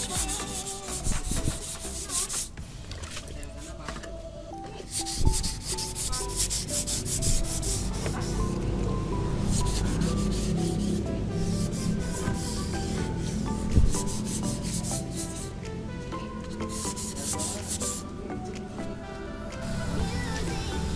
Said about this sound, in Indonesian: menggunakan amplas dengan ukuran 400. Untuk proses pengamplasannya perlahan saja ya, tidak usah terlalu keras-keras